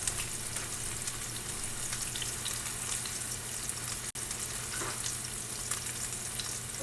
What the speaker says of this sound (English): That, my friends, is what you want to hear when it comes to a steak.